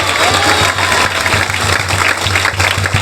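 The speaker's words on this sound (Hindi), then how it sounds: "जोरदार ताली बजाकर धन्यवाद करो।" A congregation claps loudly and continuously at a Hindi Christian gathering, dense steady applause filling the hall with no voices standing out.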